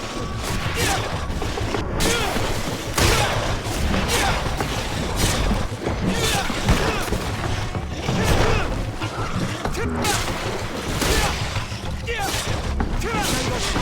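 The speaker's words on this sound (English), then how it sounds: "Grenade!" A battle in GreedFall brings scattered gunshots and crashing impacts among clattering combat noise, with voices shouting over the fighting.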